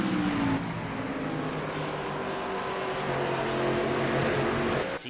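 Race cars in an iCar Busch Series race at South Boston roar together in a loud, sustained drone as the pack gets underway. The engine pitches shift slightly, then the sound cuts off abruptly at the end.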